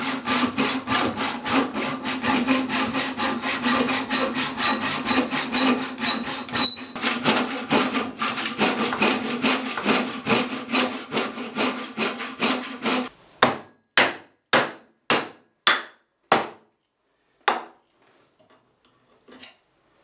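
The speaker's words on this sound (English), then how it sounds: "using a tenon saw and a Japanese saw, cut down along that line" A tenon saw and a Japanese saw cut through wood, close up, first in a long run of fast rhythmic strokes, then in about a dozen slower, separate rasping pulls with clear gaps between them.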